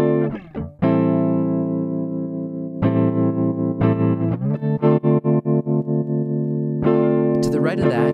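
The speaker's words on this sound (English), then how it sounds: "This knob controls the depth of the effect, so all the way to the right you'd be hearing lots of tremolo" Electric guitar chords played through an Empress Effects Tremolo plugin, sustained strums whose volume pulses rhythmically in quick regular beats, with several separate chords and a brief noisy strum at the end, close and loud with no talk.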